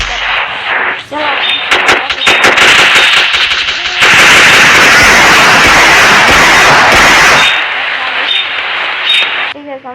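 Repeated gunshots from a gun in a video game crackle in quick bursts, then a long dense stretch of heavy continuous firing, loud and close, with brief game sounds around it.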